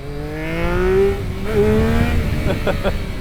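A Triumph Daytona motorcycle accelerates with a rising engine whine that climbs in pitch, dips, then climbs again, loud and close, with wind rush underneath.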